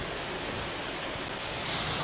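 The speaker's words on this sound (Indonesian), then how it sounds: "Dinamakan air terjun kembar karena ada dua aliran air terjun yang berdekatan." Twin waterfall, two neighbouring streams of clear water falling close together, giving a steady, loud broadband rush that holds unchanged throughout with no voices.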